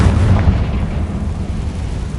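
A Confringo fire spell blast in the Hogwarts Legacy video game: a loud, booming burst with a rumbling low-end roar that carries on steadily through the whole moment, with no voices.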